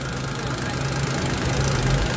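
A used car engine, a Matiz or Zhiguli fitted with gas, idles at a car market, a steady low rumble with a faint knocking pulse, close by and without talk.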